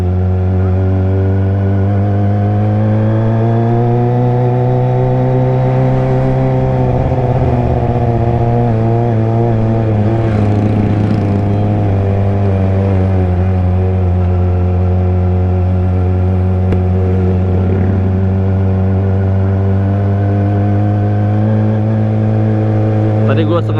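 Kawasaki ZX25R motorcycle with an aftermarket exhaust riding steadily, its engine a loud, continuous drone with shifting revs throughout, while voices talk over it.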